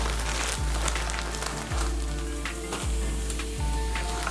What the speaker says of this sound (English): And while my burgers are cooking